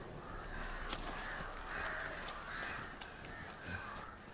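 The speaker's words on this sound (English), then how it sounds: "the crows burst forth when it happens" Crows caw repeatedly over a steady ambient bed in The Witcher 3 video game, with the calls spread through the scene at a moderate level and no talk over them.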